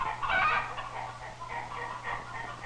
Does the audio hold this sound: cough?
no